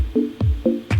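Sine-wave synth plucks with a mallet-like quality, four soft rounded hits in quick succession, alternating low thumping notes with gentler higher tones, clean and close.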